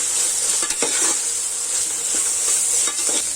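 Meal maker soya chunks and cashews stir-frying in hot oil for pulao, a steady loud sizzle with a few scraping stirs of the spoon against the pan.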